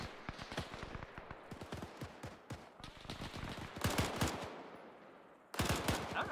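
Machine gun fire in a video game: rapid bursts of sharp shots rattle in quick succession, pausing briefly and resuming, with a louder burst near the end.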